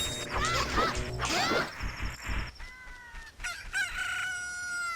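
A rooster crows loudly and repeatedly in drawn-out calls in The Legend of Zelda: Ocarina of Time, with a few clucks and other game sound effects around it.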